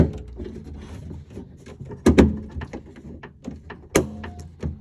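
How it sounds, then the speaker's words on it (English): A door lock clips into the driver's side door handle of a 2003-2007 car, with soft fumbling and taps followed by two sharp plastic snaps, close and fairly faint. "apply pressure to the back of the lock, and it should clip right in"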